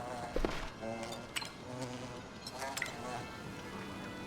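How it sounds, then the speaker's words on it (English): Bees hum and buzz continuously in the video game Palia, with short, louder zips cutting in now and then. Faint background game sounds run underneath. "I think that's all the bees."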